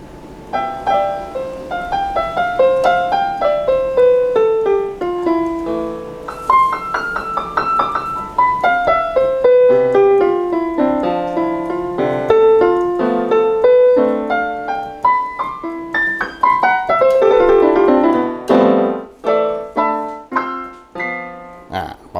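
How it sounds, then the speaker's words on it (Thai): Yamaha Electone electronic organ recorded directly from the instrument's own sound, playing a flowing melody with sustained chords, steady and fairly loud throughout, with no voices. "อันนี้คือเสียงจาก ตัวเครื่องของ อิเล็กโทรนเนี่ยนะ"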